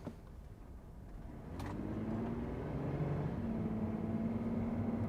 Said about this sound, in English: We're at a little stop, and I'm gonna press the gas